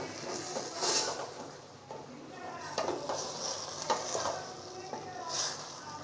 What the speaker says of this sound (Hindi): अब इसको हम एकदम अच्छे तरीके से भून लेंगे।